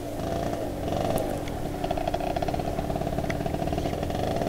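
MBK Spirit moped engine fitted with a Bidalo exhaust, idling with a steady buzzing rumble that picks up into a faster, rougher putter partway through, close and continuous with no talk.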